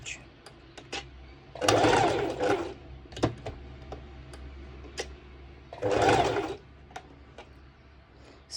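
Sewing machine zigzag-stitching a hoodie top, running in two distinct bursts of rapid mechanical whirring separated by quiet pauses with small clicks and handling noises.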